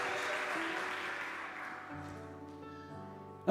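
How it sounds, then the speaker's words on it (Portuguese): A church congregation applauds steadily during a sermon, the clapping slowly fading while a sustained musical tone rises underneath. "Você podia aplaudir mais forte"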